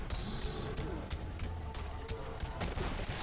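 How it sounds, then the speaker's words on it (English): Gunfire in a video game boss fight against Graveward, a quiet, rapid scatter of sharp shots and bursts repeating irregularly over the whole stretch. "we will crit swap after we unload our clip into Graveward"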